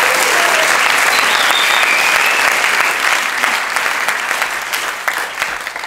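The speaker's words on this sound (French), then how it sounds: "je vous demande de l'applaudir très très fort," A theatre crowd at the Paris improv festival bursts into loud, dense applause for a performer, sustained and enveloping, with a few whoops, tapering slightly near the end.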